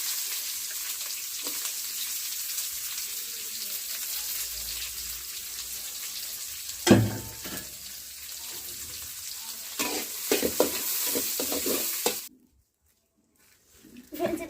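Chopped onions and garlic frying in tempered oil for a village-style Tamil kuzhambu give a steady close sizzle, with a sharp burst of crackling as ingredients hit the pan, spoon stirring, and a brief pause near the end.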